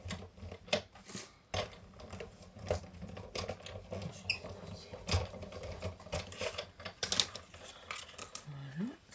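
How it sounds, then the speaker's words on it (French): An embossing machine presses a card for an ATC, giving a close run of sharp mechanical clicks, clacks and rattles in an uneven rhythm throughout. "Je vais venir le mettre comme ceci dans la machine. Embosser."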